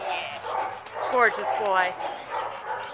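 A black dog at the North Central Shelter gives a short run of yips and whimpering bow-wow sounds at moderate loudness, close by, under and between a person's warm talk.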